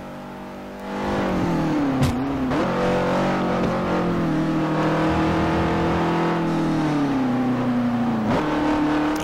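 Race car engines in the Forza Motosport 4 video game, a loud sustained engine drone that revs up and down with gear shifts, close and continuous after a quiet start.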